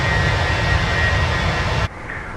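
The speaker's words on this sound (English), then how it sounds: "The Airbus A320 with British Airways livery." Airbus A320 jet engines from the Fenix add-on in Microsoft Flight Simulator, painted in British Airways livery, make a loud steady roar with a faint high whine, then cut abruptly to a quieter hum.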